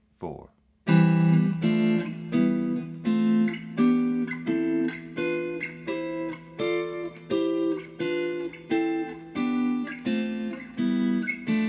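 Guitar playing triads in block harmony up the neck, a steady sequence of strummed chords with regular rhythmic attacks, clear and close, with no talking over it.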